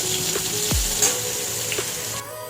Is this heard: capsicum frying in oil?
yes